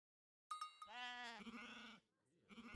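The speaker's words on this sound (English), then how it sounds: "Go pick up some sheep, why not?" Sheep bleating in the strategy game Age of Empires III, one long wavering bleat that rises and falls, followed by a shorter second bleat after a brief gap, close and clear with no talk over it.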